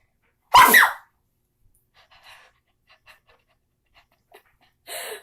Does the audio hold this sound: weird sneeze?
yes